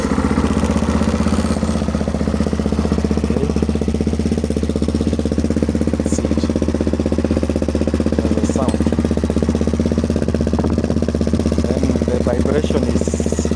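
A motorcycle fitted with a GIVI windshield runs with a steady, heavily vibrating engine drone, a loud buzzing rattle throughout with faint wind noise and a voice speaking briefly over it.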